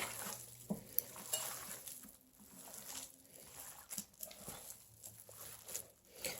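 A spoon mixing hamburger meat in a bowl, giving soft, irregular scraping and clinking against the bowl with quiet squelching pauses, close and fairly faint.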